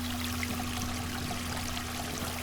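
A steady, continuous wash of flowing water, like a stream or gentle pour, plays alone at a soft, even level with no breaks, plus a faint low steady hum beneath it.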